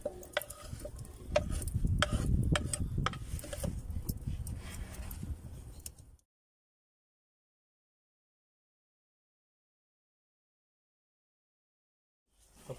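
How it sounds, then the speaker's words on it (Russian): Lard crackles and sizzles steadily in a frying pan over an outdoor fire, with occasional clinks for about six seconds, then everything goes silent. "А пока жарится сало,"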